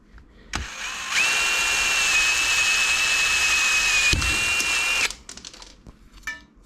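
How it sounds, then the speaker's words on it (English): A power drill with a wood bit whines at a steady high pitch for about four seconds while drilling through aluminium, starting and stopping abruptly, with some clatter and handling noise after. "if you're drilling through aluminium, these wood bits are actually better"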